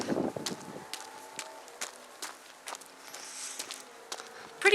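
Footsteps hurry outdoors in cold, near-freezing wind, a quick patter of soft steps over gusty wind noise, ending with a door-like clatter as someone heads inside.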